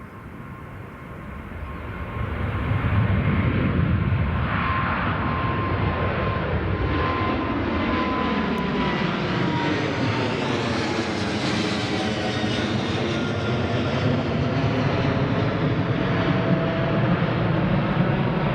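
An Emirates airliner at Newcastle International Airport roars steadily and loudly for most of the run, its engine tone sweeping in pitch as it passes nearby, building up from a quieter start.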